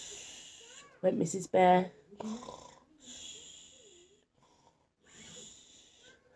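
A storyteller's voice imitates a bear snoring, with several loud, rasping snore-like bursts between stretches of narration and softer breathy sounds, close to the microphone.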